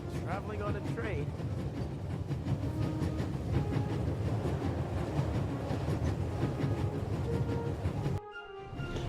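A train rolls along with a steady low rumble and faint rhythmic rattling in The Raven Remastered, continuous and close, cutting out abruptly near the end.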